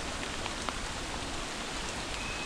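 Steady rain falls during a cold, soaked wilderness hike near Mt. Pigeon House, a dense, even hiss of drops on surfaces with a few louder close patters, no talking.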